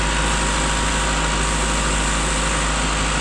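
A 1992 Honda Accord engine idles during an intake leak test, giving a steady, even hum up close with no rise in revs throughout.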